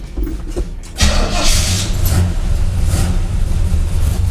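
A pick-up truck with failed brakes cranks and fires up after a short pause, then settles into a loud, rough, steady idle close by.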